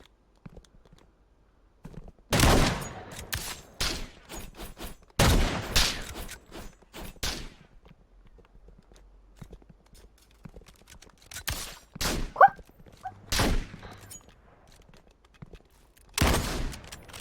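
Scattered bursts of gunfire in a shooting video game, sharp isolated shots and short volleys separated by quiet gaps, fairly close and loud.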